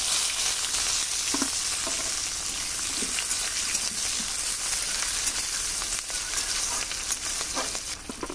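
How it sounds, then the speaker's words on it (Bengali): Chopped onion hits hot oil tempered with five-spice, dried red chilli and bay leaf, crackling in a loud, steady, close sizzle with a few soft scraping stirs and no talk. "ফোড়ন ভাজা হয়ে গেছে, দিয়ে দিচ্ছি পেঁয়াজ কুচি।"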